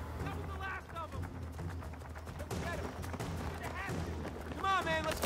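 An enemy plane makes a strafing run with gunfire in Battlefield 3, heard as bursts of rapid gunfire and explosive cracks over rumbling game ambience, with chirping sounds scattered through.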